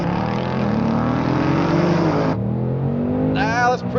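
A BMW M4 Competition launches hard off the line in a drag race. The engine note climbs loudly, cuts briefly at a quick upshift and climbs again, heard up close and dominating the moment.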